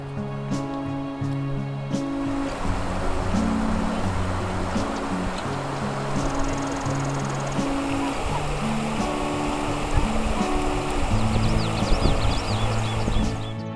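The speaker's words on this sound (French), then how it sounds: "À cet endroit, il y a une petite cascade, un bain tourbillon naturel" A small waterfall pours into a river, forming a natural whirlpool pool, with a constant broad rushing roar and a steady tonal drone running underneath throughout.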